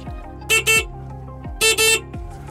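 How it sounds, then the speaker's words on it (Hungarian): A car horn honks twice in quick succession, then repeats the same double honk a second later; the blasts are loud and close over a low mechanical hum. "Melyik a duda?"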